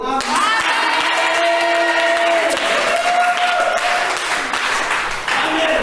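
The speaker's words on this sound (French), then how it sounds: "est-ce que le peuple de Dieu peut acclamer?" A church congregation bursts into sustained, loud applause and cheering, a dense wash of clapping and voices that carries on almost without pause throughout.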